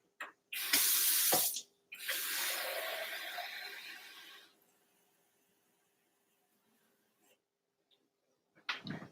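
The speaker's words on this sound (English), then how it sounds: "I'm going to add some water to this." Water running from a tap into a container for homemade slushies, two loud bursts of flow, the second lasting a couple of seconds before fading, followed by quiet and a few small clinks.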